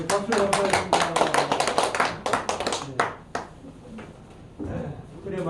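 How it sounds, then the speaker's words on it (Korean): A Korean church congregation claps together right after a prayer, a short burst of loud rapid clapping that fades out after a few seconds, followed by quieter room sound and voices. "박수로 감사합니다"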